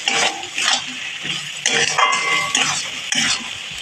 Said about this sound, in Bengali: ভালো করে আর একটু কষিয়ে নেব।